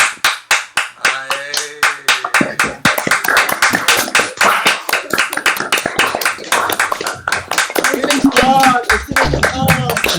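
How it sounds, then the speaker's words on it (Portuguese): Informal round of clapping at a small Brazilian popular-education gathering, many sharp hand claps layered densely over about ten seconds, close and loud, with cheering voices and speech mixed in. "Vamos fazer assim uma rodada de palmas, todo mundo abre o microfone"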